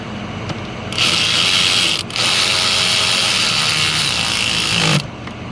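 A ratchet tightens the fuel injector bolts on a 2003 Ford F450 with the 6.0 engine, producing a loud, steady run of close ratcheting clicks that lasts about four seconds with one brief break.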